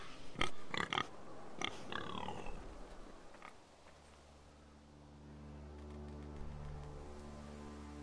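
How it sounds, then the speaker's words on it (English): A pig in the Game of Thrones video game on PS4 gives several loud, close snorting oinks and grunts in quick succession, then fades into a low steady hum of ambient background. "A pig."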